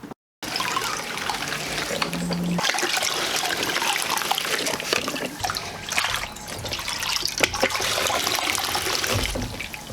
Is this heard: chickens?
no